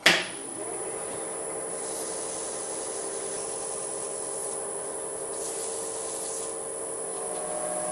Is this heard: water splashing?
no